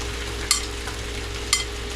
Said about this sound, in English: now the meat is cooking